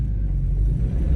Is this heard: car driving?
yes